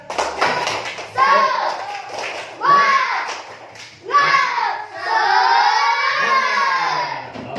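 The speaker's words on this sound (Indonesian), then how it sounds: "coba kita tepuk semangat" Children in a classroom chant the rhythmic 'tepuk semangat' spirit cheer in loud, rising bursts with dull claps, their voices filling the room in several phrases and then one long sustained call.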